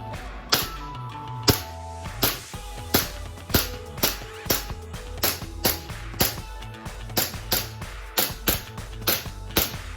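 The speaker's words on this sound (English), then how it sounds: "Okay, so first mag in, and weapon's hot, firing." An Armorer Works AW VX9301 airsoft pistol fires BBs in a long series of sharp, close snapping shots, roughly two per second, evenly spaced with faint mechanical noise between them.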